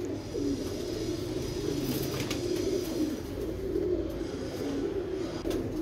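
A pair of pigeons coo repeatedly in low, rolling calls through steady rainfall, the cooing close and continuous over a wet hiss, with a few faint chirps above.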